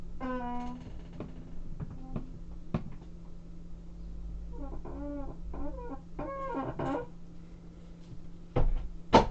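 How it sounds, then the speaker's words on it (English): An office chair that needs oil gives drawn-out, squealing creaks as someone leans back in it: one long squeak at the start, then a cluster of shorter groaning creaks in the middle, close and fairly quiet, with a couple of sharp knocks near the end. "When I lean back on my chair, like listen to this."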